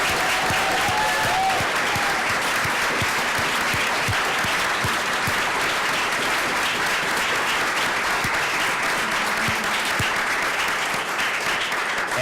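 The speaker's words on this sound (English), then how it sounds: "I'd like all of you to please stand so we can give you another round of applause." A standing crowd at a legislative briefing gives women honored for their work a long, steady round of applause, with dense clapping from many hands, loud and even throughout, with no pauses and a faint murmur underneath.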